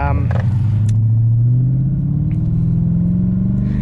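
A Holden VT with a 5-litre engine and automatic gearbox cruises along, its steady low engine drone rising slightly in pitch from inside the cabin while someone talks over it.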